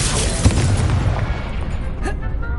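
A Confringo spell bursts in Hogwarts Legacy with a loud booming blast that rumbles and fades, followed by a brief whooshing magical tail near the end.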